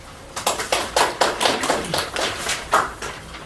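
Modest applause from a small crowd at an emergency press conference, a sparse run of distinct, fairly close claps at an uneven pace that quickly thins out.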